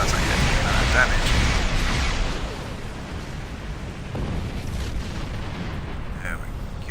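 Starship turrets in Star Trek Online fire in a dense, rumbling barrage of booming blasts that stays loud for the first two seconds, then continues as a softer, steady battle rumble with scattered hits.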